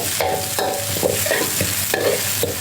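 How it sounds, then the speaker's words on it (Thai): Chili peppers stir-frying in a pan at home, a steady sizzle broken by several sharp scrapes and clatters of the spatula, close and fairly loud with no talking. "ก็ตอนนี้กำลังผัด ผัดพริกอยู่นะคะ"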